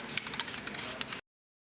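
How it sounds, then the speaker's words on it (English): Short bursts of spray paint hiss onto freshly cut metal edges of a 1973-87 Chevrolet C10 truck frame, several quick close puffs over about a second before silence. "I'm going to clean up these edges and spray a little paint on there so rust doesn't start immediately."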